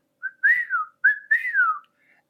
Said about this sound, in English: he does this little whistle